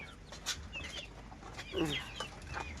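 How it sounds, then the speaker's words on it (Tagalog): Chickens cluck and squawk in short bursts nearby, a few birds calling over a quiet farmyard background. "Yan siya, malaking manok yan."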